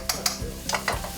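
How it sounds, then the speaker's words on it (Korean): Food is stir-fried in a wok, with a continuous sizzle and repeated scraping, clanking strokes of the spatula or wok tossing coming at a quick, uneven rhythm, close and fairly loud. "칼질이며 웍질까지 주부 뺨치는 배중사의 요리 실력."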